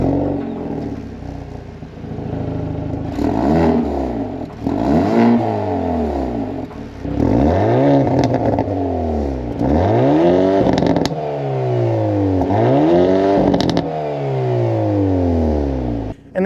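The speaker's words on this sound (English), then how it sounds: "It is a multi-stage adjustable exhaust, so it can be as quiet or as loud as you want it." A 2024 Hyundai Elantra N revs repeatedly through its multi-stage adjustable dual exhaust, each loud, close blip rising and falling in a steady rhythm of bursts with crackle between them, no talking.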